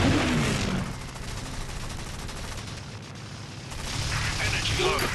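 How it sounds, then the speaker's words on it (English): Continuous gunfire from aircraft in the video game War Wings, elimination mode: dense, rapid rattling bursts run throughout at steady loudness, with brief whooshing sweeps at the start and end. "Taking heavy fire! Taking heavy fire!"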